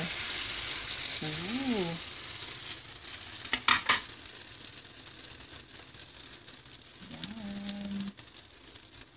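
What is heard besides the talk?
eggplant omelette (tortang talong) frying in a pan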